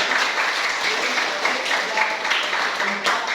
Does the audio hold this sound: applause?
yes